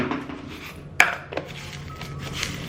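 Parrot food pellets and dried fruit being stirred in a dish, giving one sharp clink near the start, then soft scraping and rattling of the dry mix, close and moderately loud, with no talking.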